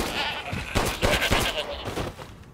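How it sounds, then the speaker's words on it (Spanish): A goat in the Resident Evil Village game bleats loudly and close, a wavering cry lasting about a second amid crackling game ambience. "Mira, sale una cabra aquí."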